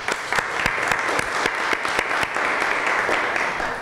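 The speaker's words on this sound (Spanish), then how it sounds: "un aplauso para todos ustedes" An audience at the close of a public meeting applauds in a loud, sustained wash, with a few sharp individual claps standing out nearby.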